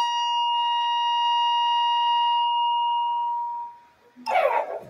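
A high-pitched, pure electronic tone in A minor holds steady for several seconds and then fades out. A brief, harsher burst of noise follows at the end.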